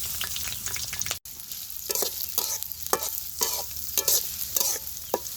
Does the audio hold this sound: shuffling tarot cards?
no